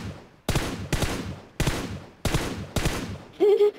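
PUBG Mobile gunfire: five sharp, loud shots in an uneven rhythm, each with a short decay, followed by a brief tonal in-game sound at the end.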